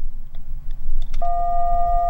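Ham radio keyed up during a fox hunt for a hidden transmitter, with no reply from the fox: a brief click, then a steady electronic tone holding clear and close over low background rumble.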